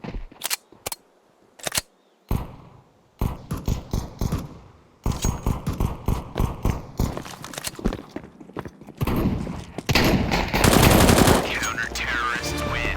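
Rapid gunfire bursts and single shots in a Counter-Strike 2 round, sharp and loud, separated by brief gaps then building into dense overlapping fire near the end.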